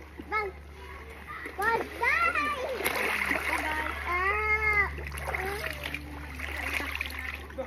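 People splash in sea water at a provincial beach, with repeated bursts of splashing under near, continuous chatter and children's voices.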